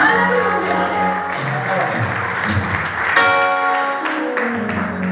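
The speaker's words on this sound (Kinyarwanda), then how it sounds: "mukomere Imana amashyi" Applause from a church congregation rises over ongoing music and voices, a steady patter of clapping for several seconds.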